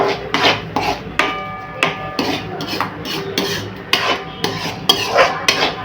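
A spoon scrapes and rubs through a thick spiced pumpkin mixture with cardamom and nutmeg in a pan, in close, irregular strokes with sharp clinks against the metal.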